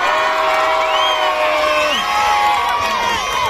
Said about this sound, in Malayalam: ഇത്രയുള്ള കൈയടി നല്ലൊരു കൈയടി എല്ലാവരും ചേർന്ന്